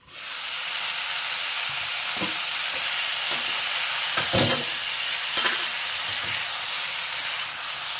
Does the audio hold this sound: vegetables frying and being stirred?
yes